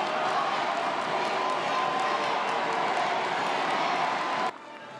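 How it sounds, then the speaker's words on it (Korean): Dense, loud crowd cheering and applause at a Liberty Korea Party convention regional joint speech rally in Daegu, continuous and roaring before dropping off abruptly near the end. "환호성이 쏟아졌습니다."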